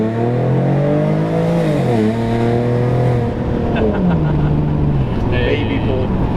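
A procharged V6 2013 Mustang pulls hard, its engine note rising through the gears with brief dips at the shifts, loud and close, steady throughout.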